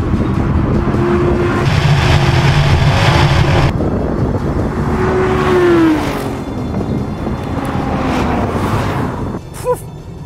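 Audi cars accelerate hard in a drag race, heard from inside one car: a loud engine climbs in pitch through several gear changes under heavy wind roar.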